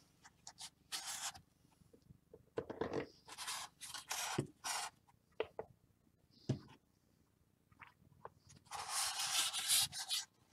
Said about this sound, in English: Brush that out so that it'll get a nice coverage and give it more of that